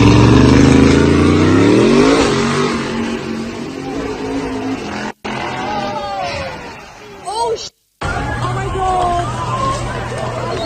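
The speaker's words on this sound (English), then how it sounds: "This driver drops off, the students to their formal and then drives off, showing off his car" A car engine revs loudly up close, then pulls away and fades as it drives off, with a crowd chattering in the background.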